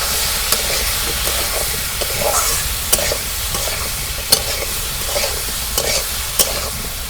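Fish curry with tomato and green chillies being stirred in a pan, a steady close sizzle and hiss with scraping clicks from the spoon scattered throughout.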